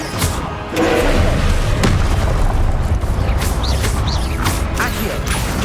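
A Confringo fire blast spell goes off in Hogwarts Legacy, a loud sustained booming rumble with crackling bursts and thumps layered over a dense game soundscape, with several sharp impacts along the way.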